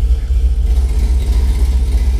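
Car exhaust with an electronic cutout valve set halfway open, gases exiting through the diverters and behind the mufflers; a steady deep, close rumble of the engine throughout, with no talking.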